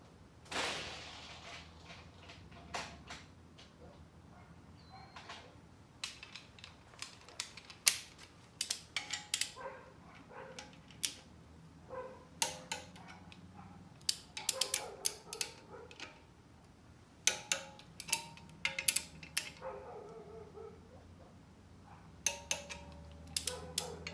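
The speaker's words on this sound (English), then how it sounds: "we're gonna go ahead and torque these" Torque wrench tightening 1/2-inch alternator bracket bolts on a 5.3 LM7 engine, giving scattered ratcheting clicks and mechanical ticks in short bursts, close and fairly quiet, with no talk.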